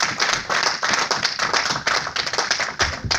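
A church congregation claps in quick, steady rhythm, a dense crowd of hands at moderate loudness with no distinct voices standing out.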